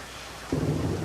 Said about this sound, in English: The mood is ruined as the sky splits open in a fit of thunder, dousing us in rain.